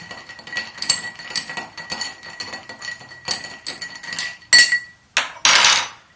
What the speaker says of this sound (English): I'm going to take my bar spoon and stir until it's cold.